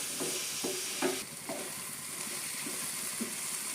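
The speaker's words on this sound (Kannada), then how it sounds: "ಮೆಣಸಿನ್ಕಾಯಿ ಸ್ವಲ್ಪ ಫ್ರೈ ಆಗಿದೆ" Green chillies fry in hot oil in a pan, a steady close sizzle broken by regular scraping stirs of a spoon, with no talking.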